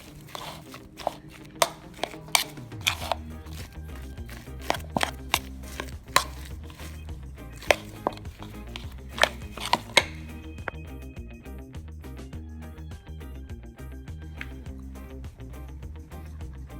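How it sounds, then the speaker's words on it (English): A spoon scrapes and knocks against baked potato skins, hollowing them for double baked Irish potatoes, a string of sharp irregular taps and scrapes close up in a quiet kitchen, with a steady low hum beneath. "So I'm scraping out most of them, and you can leave a tiny bit of potato back in there to keep the shape"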